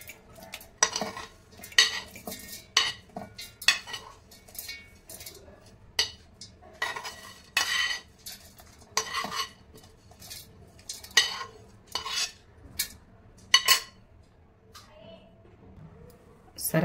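Amla chutney mixture is scraped and stirred in a bowl in bursts of clinking, scraping strokes with short pauses between, fairly close and moderate in level, with faint sizzling in the background.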